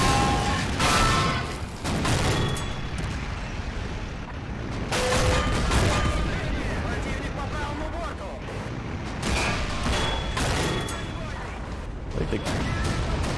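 Battle sounds from the Men of War: Assault Squad 2 video game, with repeated booms and shots from guns and artillery mixed into a dense, continuous noisy backdrop, while a voice talks over part of it.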